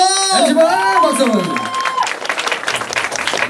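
Live audience at a Korean singer's year-end talk-and-song concert breaks into applause and cheering over a sustained singing voice, the clapping swelling into a dense, loud crowd patter by the end.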